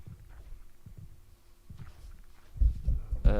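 A low, muffled heartbeat from a Minecraft stronghold datapack thumps in slow, soft pairs, then quickens and grows louder toward the end, with faint game ambience underneath.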